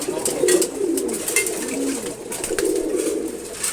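Racer pigeons of a foreign bloodline coo close by on a pigeon farm, a continuous run of low, burbling calls rising and falling, with faint rustling and chirps behind.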